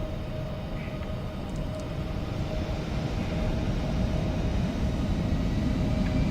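Jet engines of an Embraer E-175 in X-Plane 12 spooling up to takeoff power, a steady broadband roar with a faint tonal whine that grows gradually louder and holds.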